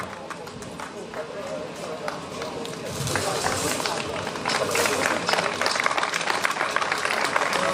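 Audience applause at a motorsport hill-climb awards ceremony, the Vilar de Barrio climb of 2023, rising from a steady patter into fuller, denser clapping partway through, with voices mixed in.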